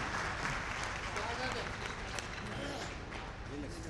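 A hall audience claps steadily and loudly at a Lucknow Mahotsav kavi sammelan poetry gathering in 2013, a continuous wash of applause with a voice speaking over it.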